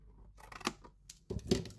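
Scissors trim paper rectangles and a small square for a homemade Christmas craft, giving a few crisp, close snips with short pauses in between and no talking.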